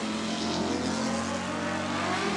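At Eddyville Raceway Park, drag racing cars, including a Buick, roar at a distance in a continuous engine drone with no distinct launch burst.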